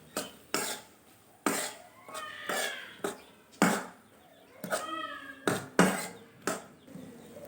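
Brinjal curry being stirred and mixed in a pan with a utensil after turmeric powder is added, giving a series of sharp scraping and clinking strokes against the metal, roughly one every half second, close and fairly loud with no talking.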